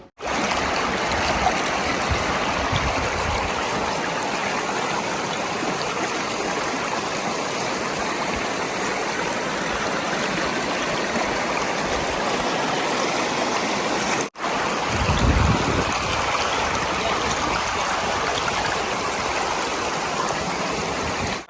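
A shallow river with low water flows steadily and close by, a continuous rushing and trickling wash with no pauses and no voices.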